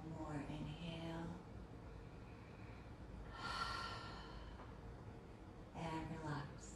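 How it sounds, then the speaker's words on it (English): Deep breaths drawn in during a flow yoga session, a long audible inhale rising mid-clip with softer breaths at either end, close and steady over a faint room background. "Breathe in. One more inhale."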